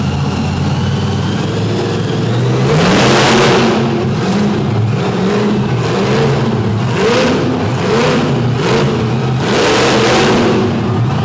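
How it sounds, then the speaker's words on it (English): A big supercharger blower on a truck at a destruction event at Davie whines loudly as the engine revs up and falls back again and again, with rising and falling tones over a rumbling base and surging blasts. "I love the sound of that big blower motor. The way they got that thing tuned, it's got such a different blower whine to it."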